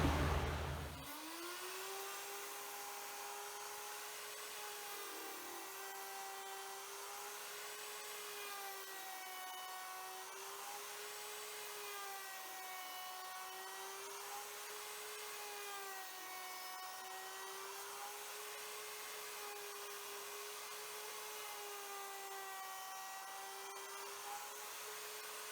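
A router bit cuts along the edge of a wooden octagon table top, a sustained high whine that wavers rhythmically as the bit moves through the wood, close, steady and with no talking.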